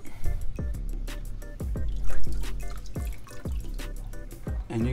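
Water drips and splashes steadily as an aquarium filter sponge is squeezed, a rapid irregular patter of close drops falling into water.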